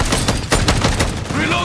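Rapid gunfire bursts from a Modern Warfare 3 zombies match, dense overlapping shots with game voice chatter underneath throughout.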